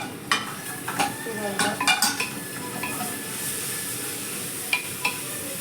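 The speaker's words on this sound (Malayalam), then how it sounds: "ഫ്ലെയിം ഇച്ചിരി ഒന്ന് കൂട്ടി വെച്ചിട്ട് നമുക്ക് സവോള ഒന്ന് വഴറ്റി എടുക്കണം" Sliced onions sautéing in a pan over raised flame for a beef curry, stirred with a utensil that scrapes and clinks against the pan under a steady sizzle.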